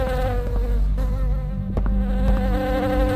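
An insect-like buzz from a bee in the video game Poppy Playtime Chapter 3, a steady droning hum with wavering tones that holds for about three seconds, close and fairly loud.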